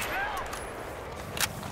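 Gunfire in the video game Battlefield 3 on the Caspian Border conquest map: scattered distant shots with one sharper burst near the end over steady battle ambience.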